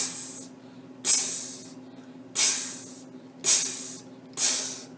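A voice imitates a leaky radiator hiss beatbox-style, producing five separate bright hissing bursts roughly a second apart, each starting sharply and trailing off, over a faint steady hum.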